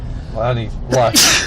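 A single sharp sneeze bursts out near the end, close and loud, after a man's speech during a casual talk show conversation.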